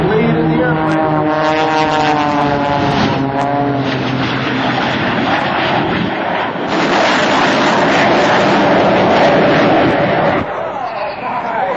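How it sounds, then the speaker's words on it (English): A loud aerobatic propeller airplane roars past in a drag race against a jet truck at a 2007 Air National Guard open house air show. The engine tone sweeps and shifts as it passes, with an announcer talking over it. "Here come the airplanes for our drag race."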